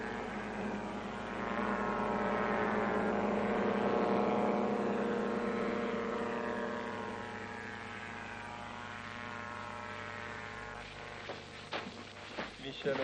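Ultralight aircraft engines climbing on a practice flight toward the 12,000-foot peak of Tambora, a steady droning propeller hum that swells and fades slightly, with brief knocks near the end.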